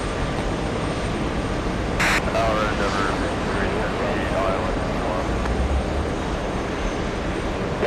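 Airplanes at JFK airport produce a constant, broad distant roar of engines, with air traffic control radio voices talking over it throughout.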